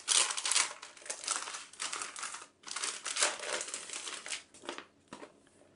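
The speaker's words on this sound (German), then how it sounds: "So, machen wir die zweite Tüte mal auf." A plastic Lissy surprise bag being torn open and crinkled by hand, with continuous close, loud rustling and crackling in uneven bursts and a short pause midway, no talking.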